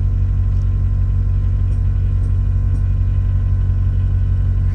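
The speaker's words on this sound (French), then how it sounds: "Et là, évidemment, il y a le bruit du compresseur." A steady, loud low rumble and hum from an air compressor in a garage as a car lift raises an Audi TTRS with 430 hp, continuous with no break and no talking.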